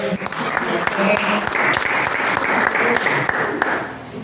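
An audience at a school history olympiad in Supiori breaks into sustained, dense applause, many hands clapping close and steady for several seconds before tapering slightly at the end.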